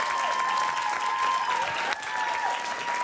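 Studio audience applause on a talk show, a dense, even wash of many hands clapping for three seconds, moderately loud, with a faint steady tone running beneath.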